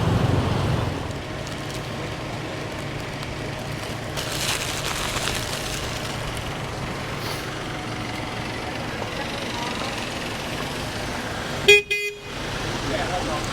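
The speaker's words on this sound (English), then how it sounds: "So we're going to get on the boat bus and go back to the hotel." A boat bus ride through Pattaya traffic, with continuous engine and road rumble, people talking over it, and a sharp horn toot near the end.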